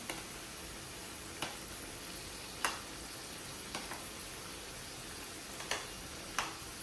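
Bhajiya fritters with moong dal deep frying in oil, a steady quiet sizzle with an occasional sharp tick or tap of a spoon against the pan every second or so.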